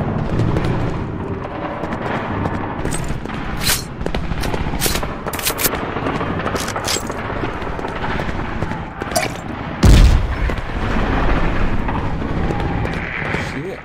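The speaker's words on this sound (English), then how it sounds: "Grenade." Gunfire and explosions crackle nearly nonstop through a Medal of Honor: Allied Assault firefight, with sharp bursts throughout and one heavy, booming grenade blast about two-thirds of the way through, loud and close.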